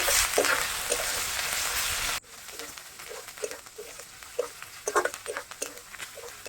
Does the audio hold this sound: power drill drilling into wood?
no